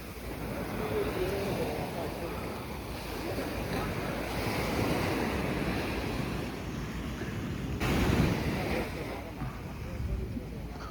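Sea waves wash continuously onto a beach in Goa, a broad steady roar with gusting wind on the microphone and a brief surge of surf, while voices talk faintly.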